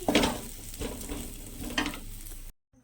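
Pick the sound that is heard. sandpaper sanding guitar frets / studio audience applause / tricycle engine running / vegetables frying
vegetables frying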